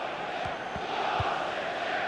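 A crowd roars steadily during a FIFA 15 Premier League match between Crystal Palace and Manchester City, a continuous distant stadium wash with a few low thuds beneath it.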